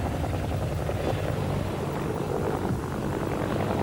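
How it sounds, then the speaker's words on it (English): Steady, dense rotor roar of an attack helicopter gunship overhead during the 1991 Gulf War, loud and continuous with no other sounds standing out. "The helicopter gunships were proving devastating."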